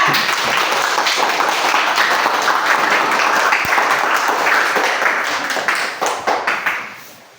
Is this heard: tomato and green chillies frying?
no